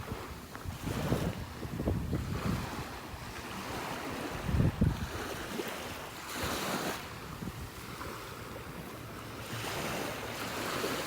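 Ocean waves washing onto a beach in North Naples, Florida, with low rumbling surf swells rising and falling under steady wind buffeting the microphone, loud and close, no voices.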